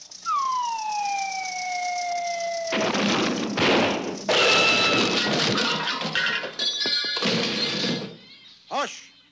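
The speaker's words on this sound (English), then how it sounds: "Sounded to me like a safe falling on somebody, a gunshot, and a plane crash." A cartoon crash sequence: a long descending whistle, then a heavy slam of a falling safe, a bang like a gunshot and a loud rumbling plane crash with clattering debris, ending in a short wobbling tone.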